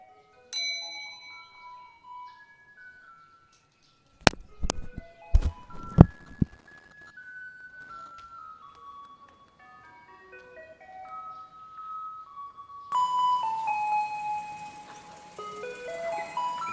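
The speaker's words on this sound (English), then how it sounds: "This is a trash truck or rubbish truck or however it's called in your country." A Taiwanese garbage truck plays its melodic jingle while passing, the simple tune drifting from far to near and continuing at length, interrupted midway by a few sharp metallic clangs and thunks nearby.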